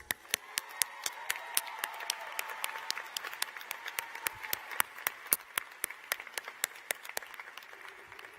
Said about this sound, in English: Now, how about another round of applause for Dr.